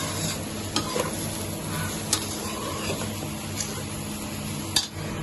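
Onions sizzling in a pan, a steady close frying hiss with occasional sharp clinks and scrapes of a spoon stirring against the metal, and no talking.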